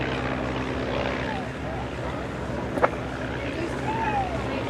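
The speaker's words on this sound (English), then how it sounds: "After the Tiger Moth, the Miles Magister." Miles Magister propeller aircraft flying past at the Woodchurch airshow, 2005, a broad distant engine drone with a brief click and faint chirps over open-air ambience, with a public-address voice under it.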